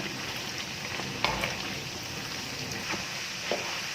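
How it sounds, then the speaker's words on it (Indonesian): Steady crackling sizzle of peanuts frying in a pan over medium heat, with occasional scraping knocks as they are stirred, close and continuous without talk. "Kita harus betul-betul berkonsentrasi kalau menggoreng kacang."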